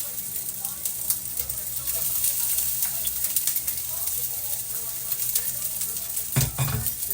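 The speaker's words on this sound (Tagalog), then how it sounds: "garlic dyan sa aking panggisa sa ating ampalaya mga mahal ko" Garlic sautés in a pan for an ampalaya dish, giving a steady crackling sizzle with light utensil clinks and a clear knock near the end.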